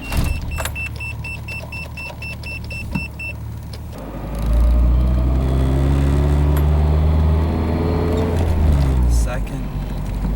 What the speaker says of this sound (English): we're going to go on a short test drive now